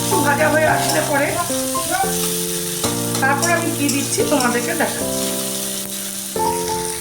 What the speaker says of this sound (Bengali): পেঁয়াজটা একটু ভাজা হয়ে আসলে পরে